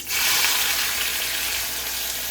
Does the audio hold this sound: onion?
yes